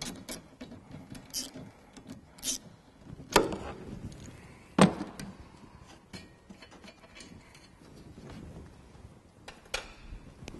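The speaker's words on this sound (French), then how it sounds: "À l'aide d'un petit cliquet avec une douille de 10, on va extraire." A small ratchet with a 10 mm socket loosens the air filter screws on a Renault Scénic 2 dCi, making quiet rapid clicks and a few sharper metallic knocks, close and intermittent.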